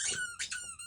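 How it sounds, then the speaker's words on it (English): A dog's squeaky toy gives a few sharp, high squeaks in quick succession, close and clear, with nothing else heard. "Yes, that would be the dog Squeaky Toy."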